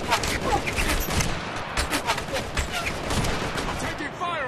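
Gunfire in Operation Flashpoint: Red River during a cordon and search, with irregular rapid volleys of shots and sharp cracks over a constant rumble, moderately loud and continuous, with voices in the mix.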